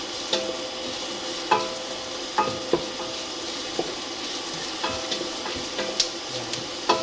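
Ginger sizzles steadily in hot oil in a pan, a continuous frying hiss broken by occasional scrapes and taps of a spoon stirring it, with no talking over it.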